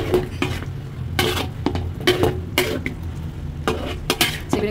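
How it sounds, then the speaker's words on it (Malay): A utensil stirs fried chicken into qorma in a pot, giving repeated close scraping and clinking strokes against the metal over a soft sizzle, with no talk. "Gaul dia sampai sebati."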